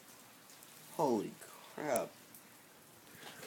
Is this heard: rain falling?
yes